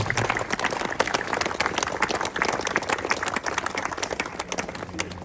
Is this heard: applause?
yes